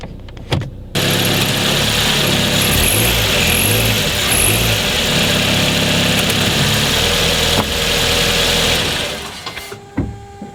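An Opel Agila engine idles loudly nearby with the brake pressed, then revs up and down in several surges, steady throughout before a click and the engine dropping off at the end.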